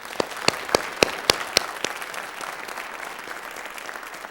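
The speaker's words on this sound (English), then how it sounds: "Can we give her a big round of applause?" A theater audience in Canton's Village Theater breaks into applause, opening with a handful of sharp, distinct claps before settling into a steady, dense wash of clapping that carries on alone without talk.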